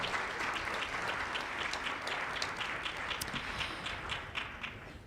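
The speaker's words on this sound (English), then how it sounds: "let's give a round of applause to the people behind the scenes making the magic happen" An audience at a high school chorus concert claps in a steady round of applause, dense and even at a moderate distance, fading slightly toward the end.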